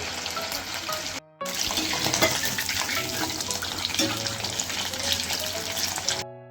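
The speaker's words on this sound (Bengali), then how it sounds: "খুবই ফুটছে, ভালো লাগছে।" Chicken pakoras fry in a wok of hot oil with a close, steady, bubbling sizzle, broken only by a brief cut near the start, and no voices.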